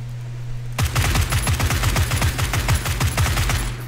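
Rapid automatic gunfire in the battle-royale shooter PUBG, about a dozen sharp bursts in quick succession after a short quiet opening, loud and close throughout.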